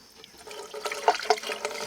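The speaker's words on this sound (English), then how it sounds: "I'm going to pour this in here until the water starts coming out the other side of that manifold" Antifreeze is poured into the exhaust manifold of a Crownline 202 boat's 5.7 liter EFI engine, a close, gurgling trickle that grows fuller with a few louder glugs.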